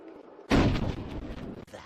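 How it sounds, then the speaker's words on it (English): A gunshot in the video game Batman Arkham Asylum lands as one sharp, loud blast after a quiet lead-in, followed by a rumbling tail. A second, smaller hit comes near the end. "The Joker tries to shoot Jim Gordon, but Batman saves him."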